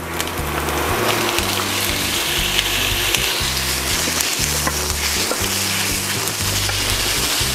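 Pork strips frying with onion in a pan give a loud, steady sizzle, with a repeated low scraping of stirring running beneath it throughout.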